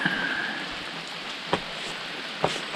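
Steady rain falls at a trail shelter on the Long Trail in Vermont, a dense continuous hiss with a few sharp drip impacts, heard alone with no voices.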